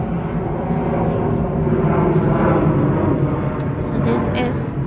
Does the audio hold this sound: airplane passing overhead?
yes